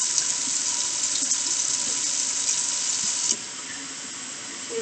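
Tap water runs steadily into a metal pot holding potatoes, a close, continuous splashing rush that drops slightly in level partway through as the flow changes.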